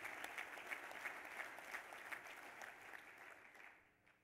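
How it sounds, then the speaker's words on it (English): Audience applause at the Kentucky Farm Bureau Country Ham Breakfast, a full room clapping steadily for about three seconds before tapering off at the end. "They deserve a special round of applause."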